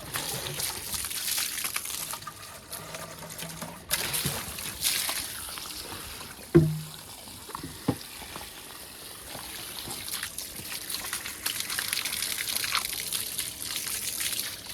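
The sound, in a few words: rinsing a calf feeding container with cold water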